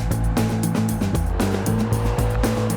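A BMW M6 on the move, its engine a loud, continuous drone with shifting pitch as it revs up and down, steady and close throughout with no talking.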